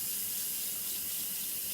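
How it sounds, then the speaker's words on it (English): Running cold tap water pours steadily into a sink, rinsing drained pasta, a constant close hiss with no voices. "After draining water out, you can wash the pasta with the cold water."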